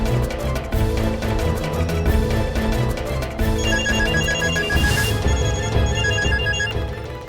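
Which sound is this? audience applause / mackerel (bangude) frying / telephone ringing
telephone ringing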